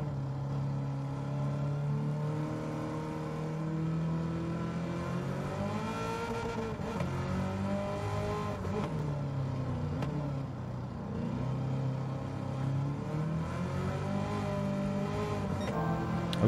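A Chevrolet races in Gran Turismo 7, its engine holding a steady high whine that rises and falls with gear changes and acceleration, loud and continuous with no talk.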